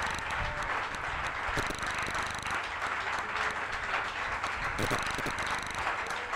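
Congregation applause at a church pastor's ordination service, a steady dense wash of clapping filling the room throughout, with faint rattling and shuffling underneath.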